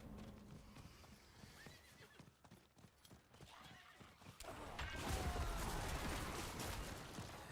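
Horse in a video game whinnying, with clip-clopping hooves and a rising rush of motion noise, all fairly faint.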